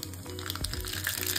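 Mustard seeds go into half a spoon of hot oil for tempering, giving a short, steady, close sizzle with faint crackles.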